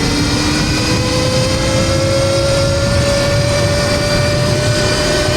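An electric off-road motorcycle in sport mode at full throttle on a short, steep hill, its loud motor whine rising steadily in pitch over rushing wind and tire noise.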